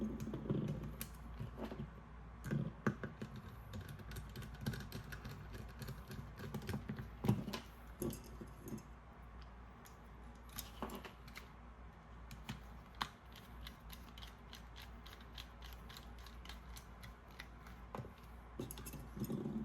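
A screwdriver drives small screws into the back of a Sennheiser transmitter, giving faint close clicks, creaks and brief mechanical rattles over a low steady hum.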